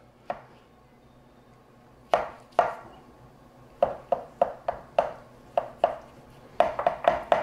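Knife slicing zucchini into wedges on a cutting board: a dozen or so sharp, close chops, sparse at first and then coming quicker toward the end, alone without speech.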